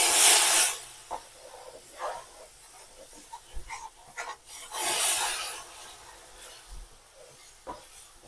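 Jaggery water is poured in small amounts onto hot roasted wheat flour sheera cooked in ghee, giving a loud hissing sizzle at first, then several shorter bursts of sizzle and scraping.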